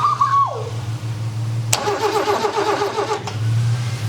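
Old lawn mower engine catching and running with a sudden loud start, then a steady rough mid-pitched putter under a low background drone.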